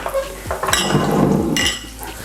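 Sage leaves fry in butter in a hot pan, giving a steady close sizzle with a few soft clinks of utensils against the pan.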